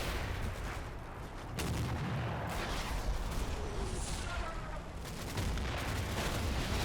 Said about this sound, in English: Howitzers are definitely the only thing saving us over here.